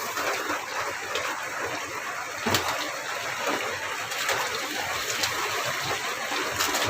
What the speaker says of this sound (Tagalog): hindi talaga tumitigil yung ulan